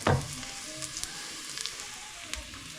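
Ingredients sautéing in a hot pan for a Filipino tinola, a soft steady sizzle with a brief louder burst at the start, close by and without talk.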